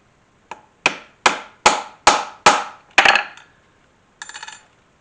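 Hammer whacks on a rivet setter fixing rivets on a kukri sheath: seven sharp, close metallic strikes in a quick, even rhythm, followed by a pause and a short rapid burst of lighter taps, with no talking.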